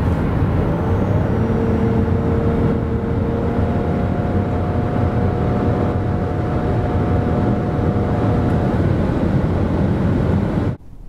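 Nissan X-Trail e-Power 2023 hybrid, 1.5 with 213 hp, in sport mode accelerating hard from 90 to 140 km/h: steady loud engine and road roar inside the cabin with rising tonal whine, cutting off abruptly at the end.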